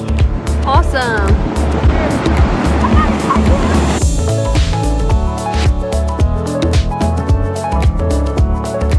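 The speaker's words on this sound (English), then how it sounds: "Those waves right now." Ocean waves crash and wash steadily onto a beach, a loud continuous surf roar with people talking over it and a melodic tone entering partway through.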